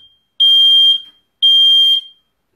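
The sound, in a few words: smoke alarm beeping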